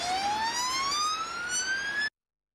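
An ambulance siren sounds loud and near, one long rising electronic wail that cuts off abruptly after about two seconds.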